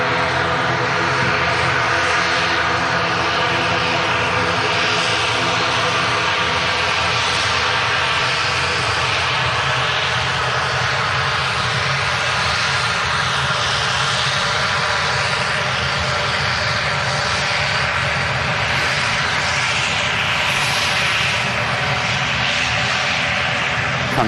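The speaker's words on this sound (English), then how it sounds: "We go noisy ATR aircraft" A noisy ATR turboprop aircraft at Manchester Airport gives a loud, sustained engine drone with a steady tonal whine, continuous and close throughout, with no talking.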